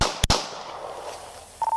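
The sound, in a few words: gunshots heard in investigators' recording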